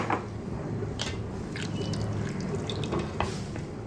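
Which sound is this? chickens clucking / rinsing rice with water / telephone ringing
rinsing rice with water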